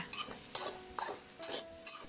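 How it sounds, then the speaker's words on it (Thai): Stir-frying textured vegetable protein in oil, stirring and scraping in a pan with light sizzling, several separate scrapes spaced about half a second apart, fairly quiet and close. "ผัดให้โปรตีนเกษตรเคล้ากับน้ำมันแป๊บหนึ่งค่ะ"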